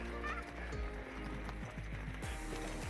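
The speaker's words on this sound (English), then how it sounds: "a snapshot of our family out riding horses" Horses' hooves clip-clop in an uneven walking rhythm as a family rides horseback up a hill, close and fairly loud, with some wind and handling noise over the steps.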